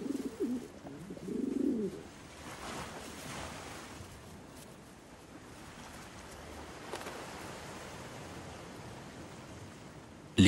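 Rock pigeons coo softly twice near the start, then quiet outdoor ambience with wind or distant surf carries on.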